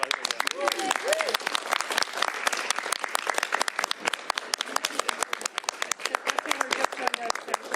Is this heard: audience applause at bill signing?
yes